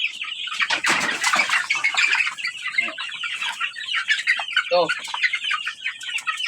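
Chickens from a poultry breeding yard squawk and cluck loudly and close up, with bursts of wing flapping and a sharp rooster-like call near the middle, continuing without a break throughout.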